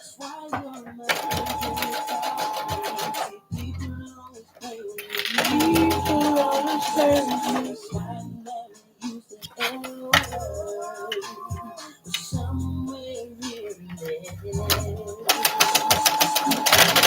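A sewing machine stitches through sturdy material over a bag handle in a home studio, running in repeated loud mechanical bursts with short pauses between, while music plays in the background.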